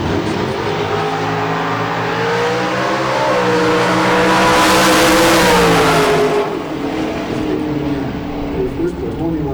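Drag racing cars launching at a nitro drag strip event, including a '55 Chevy out of Kalamazoo, with loud engines revving and rising in pitch as they accelerate away, under a track announcer's commentary.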